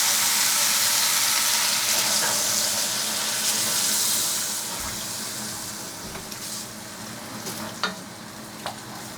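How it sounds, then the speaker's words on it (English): Water poured onto potatoes and browned chicken in a hot pan, a loud rushing hiss and sizzle that gradually quiets to a softer bubbling with a few light clinks near the end. "now we're gonna add our potatoes and our water."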